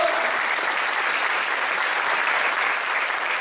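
A church congregation bursts into loud, sustained applause during a Portuguese-language sermon on spiritual warfare, a thick wash of many hands clapping steadily for several seconds, close and unbroken.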